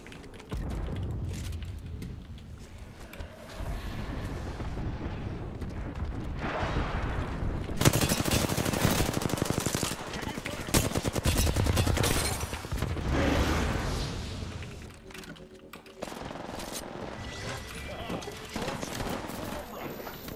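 Gunfire in a video game shooter, dense bursts of automatic and single shots crackling over a noisy battle mix, loudest mid-clip, with people talking throughout.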